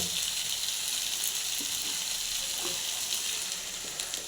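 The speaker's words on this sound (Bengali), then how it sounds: "ডিমগুলো দিয়ে ভালো করে নাড়াচাড়া করে দেবো।" Eggs are stirred in a hot pan for an egg and potato curry, sizzling with a steady, bright frying hiss and a few faint scrapes throughout.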